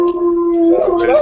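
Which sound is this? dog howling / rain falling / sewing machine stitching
dog howling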